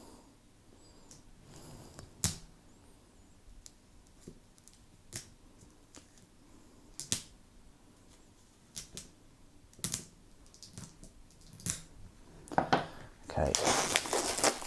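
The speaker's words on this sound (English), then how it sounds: "let's unwrap this and have a look" Plastic wrap being torn and peeled off a Warhammer 40K Psychic Awakening book, scattered crisp crinkles and snaps that build into a loud rustling burst at the end, with a brief spoken word early on.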